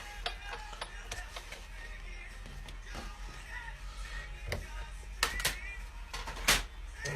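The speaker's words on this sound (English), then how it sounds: "And we'll run it back through the machine." A hand-cranked embossing machine rolls a handmade card through its plates, giving a steady close mechanical ratcheting and grinding with a few sharper clicks and knocks, under light talk.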